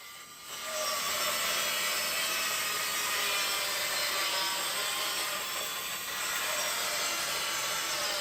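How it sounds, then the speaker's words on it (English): A bandsaw cuts steadily through an old Douglas fir bowsprit from the schooner Victoria, with a loud, continuous whirring and grinding that starts after a brief quieter moment and holds throughout. "Steve fired up the bandsaw to see what was inside Victoria's old Douglas fir"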